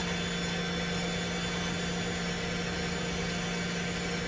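An F1 car engine in F1 Manager 24 at Interlagos drones in a steady, unbroken glitching buzz with constant tones, loud and monotonous, with no variation or talk.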